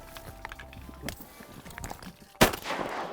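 A single sharp shotgun blast cracks out near the end, loud and close, after a stretch of quiet outdoor rustling and faint movement, while duck hunting over a flooded wheat field in North Dakota.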